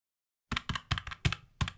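Computer keyboard keys tapped in a quick, uneven burst of about eight clicks after a short silence, close and fairly loud, while typing a prompt for an AI sticker maker.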